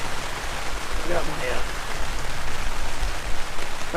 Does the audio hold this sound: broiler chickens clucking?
no